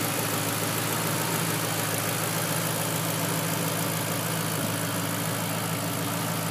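A turbocharged 2006 Ford Mustang convertible engine idles with a steady, even rumble and hiss, heard close and alone with no talking.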